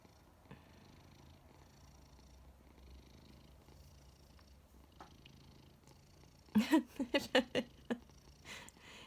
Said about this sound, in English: if you're wondering what that rumbling sound is, it's her purr.